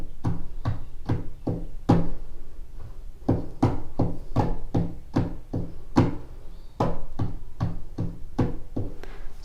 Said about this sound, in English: you're tapping without counting, like I just did